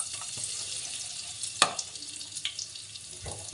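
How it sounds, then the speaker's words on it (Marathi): Asafoetida dropped into hot tempering oil already holding turmeric, for a Marathi amti dal: a steady close crackling sizzle with a few sharp pops and spatters, no talking. "आता आपण हिंग टाकूया थोडंसं"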